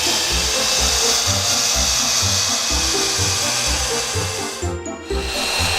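A Taurus 3 handheld ring saw grinds steadily through glass, its motor holding a dense, continuous whine with a pulsing low hum, briefly dipping near the end before resuming, with no voices.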